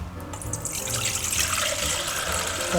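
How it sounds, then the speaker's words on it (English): Water pours and splashes close by as rinse water drains from rice, a continuous gushing trickle into a sink. "so we're gonna just drain this out"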